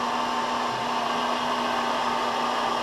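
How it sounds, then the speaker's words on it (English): Heat gun blowing hot air onto PVC-coated wire, a constant close whooshing fan-and-air hiss with a steady motor hum, no talking. "I'm going to take this piece of PVC wire and I'm going to expose it to the heat of the heat gun"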